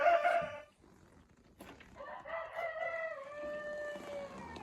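Silkie hens in a greenhouse cluck and give drawn-out calls, a loud close call at first, then quieter overlapping vocalizations with faint rustling behind.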